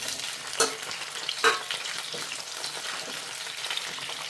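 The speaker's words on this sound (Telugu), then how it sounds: "ఇప్పుడు ఈ బంగాళదుంప ముక్కలు వేయించుకుంటున్నాం" Boiled potato pieces frying in oil in a kadai for dum aloo curry, a close steady sizzle broken by two louder scraping clanks as the pan is shifted, then continuing crackle with faint scrapes.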